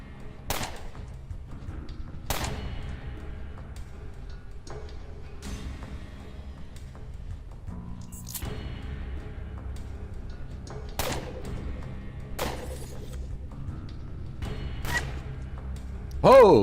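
Gunfire in the UnderRail video game, including a sniper rifle: sharp isolated shots ring out every couple of seconds over a low steady background drone, fairly near but moderate in level.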